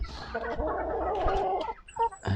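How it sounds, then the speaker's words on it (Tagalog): Rhode Island chickens cluck and murmur softly at close range, a few short calls trailing off, with no one talking. "Ito natin yung mga alaga kong manok. Ito, Rhode Island."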